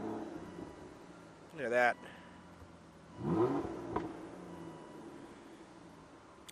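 The engine of a 2006 Aston Martin DB9 being started: a short rising whir and catch, then a second fuller surge and settle into a low idle, with a person speaking briefly nearby.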